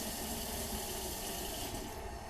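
Hot water poured slowly from a container holding about two cups into a bowl of bread dough, a steady close, continuous splashing trickle with no talk.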